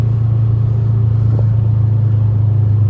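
A 2005 Subaru Legacy GT turbo cruising at high freeway speed: a steady, loud low engine drone and road rumble run throughout with no break, and no talking over it.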